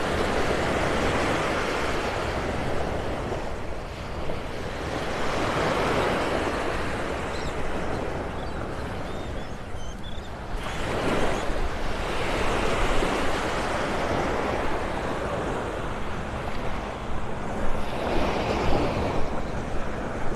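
Surf rolls onto Vanderbilt Beach in North Naples, Florida, as a constant broad wash with slow swells every few seconds, while wind buffets the microphone throughout and no one speaks.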